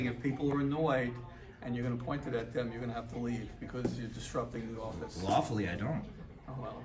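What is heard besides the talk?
No distinct noise like a dog, phone or traffic.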